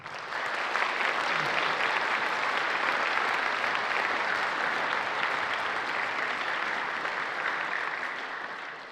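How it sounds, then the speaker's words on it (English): A concert audience gives sustained applause for the teachers at a winter wind ensemble concert, a dense steady wash of clapping that holds for several seconds and fades slightly at the end. "So if you would help me give them a round of applause, please."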